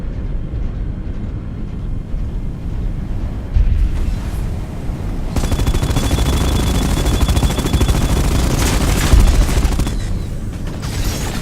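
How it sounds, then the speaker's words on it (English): A mech firing its guns in the virtual reality video game Archangel Hellfire: dense, loud sustained rattling bursts over a heavy rumbling background, growing stronger midway through, with no talking. "Oh, he's shooting over there."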